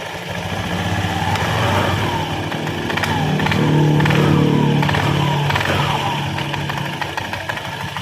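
Automatic scooter engine revving up and easing back as the throttle opens, with a metallic rattle from the front roller housing, loud and close, rising to a peak midway and then settling.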